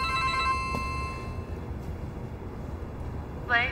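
An office telephone rings with a thin, steady electronic tone that fades early, followed later by a brief chirp over a low background hum.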